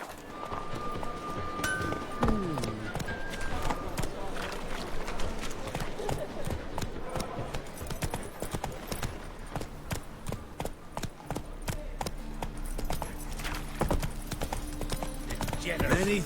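Hooves of a galloping horse in The Witcher III: The Wild Hunt pound in a fast, continuous clip-clop rhythm, close and steady throughout, with game music and background voices beneath and a few snorts.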